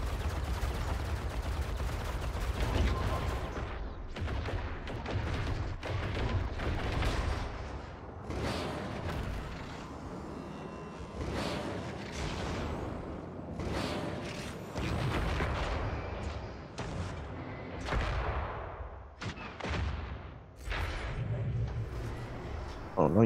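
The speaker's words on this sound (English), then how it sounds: "So I shoot at the sun." Repeated shots fired at the sun in the space game Worbital, a chaotic run of booming blasts and rumbling impacts that swell and fade throughout, with a voice talking at times.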